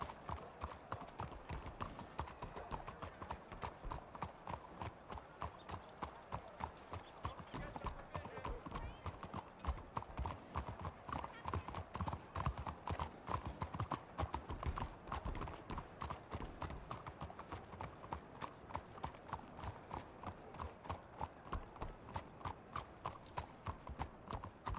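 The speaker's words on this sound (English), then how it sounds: "What kind of horse is that? It's a thoroughbred." Thoroughbred horse hooves walking in the Red Dead roleplay video game, a steady, even clip-clop running throughout at moderate level, with a voice talking over parts of it.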